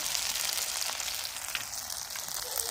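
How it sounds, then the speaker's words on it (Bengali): Dried red chilies and spices fry in hot oil for a prawn curry, giving a dense, steady crackling sizzle close up, with small pops scattered throughout and no voices. "শুকনো লঙ্কা তেলে দিয়ে দেবো"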